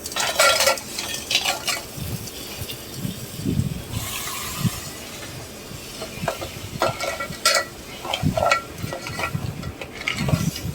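Crab curry masala being mixed in a pan, with a spoon scraping and clinking against the metal in steady repeated strokes over a low sizzle, close and fairly loud throughout.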